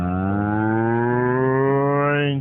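A single long, loud cow moo holds steady for about two seconds, rich and droning, then cuts off sharply.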